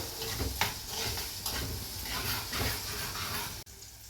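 Ginger, green chili and curry leaves sauté in hot coconut oil, giving a steady, close frying hiss that swells and dips briefly, with a short break near the end.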